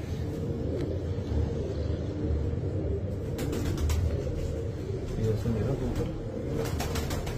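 Soft, low pigeon coos murmur repeatedly against a rumbling background, with a few creaks and faint voices mixed in.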